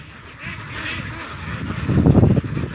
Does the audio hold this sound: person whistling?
no